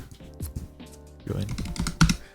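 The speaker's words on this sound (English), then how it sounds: "Why do I keep using this keyboard?" Clicks on a computer keyboard, irregular and close, mixed with a person talking over them.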